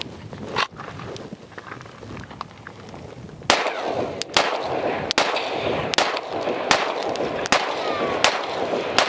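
Sig P320 Spectre Comp pistol fitted with an EOTech EFLX sight and SureFire X300 Turbo light fired outdoors: several sharp, loud shots in an irregular string, each ringing briefly, after a quieter stretch of ambient noise.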